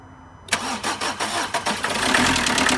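Diesel van engine on a previous non-runner cranking in a quick series of turns, then catching and settling into a steady rough idle, close and loud with no talking.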